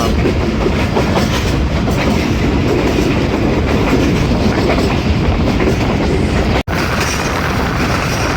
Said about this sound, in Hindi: 15 किलोमीटर की रफ्तार से अटक खुर्द रेलवे स्टेशन को पास करेगी वन अप खैबर मेल